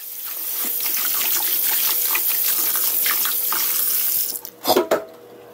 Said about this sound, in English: Now I'm going to soak the leaves a little while just to remove